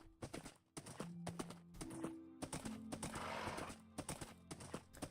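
Horse hooves clip-clop in the Minecraft video game, a steady run of sharp hoofbeats mixed with game sounds and a whinny.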